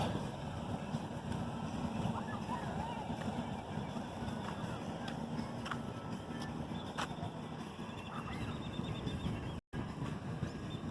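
Steady broadband engine drone from many motorboats on the Bridgewater Channel at Lake Havasu City, Arizona, with wind buffeting and faint distant voices underneath throughout.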